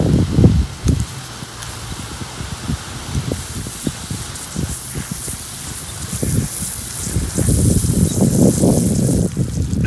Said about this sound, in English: This is actually the last sprinkler on the line right now.